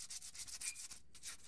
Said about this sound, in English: you pretty much just go along and sand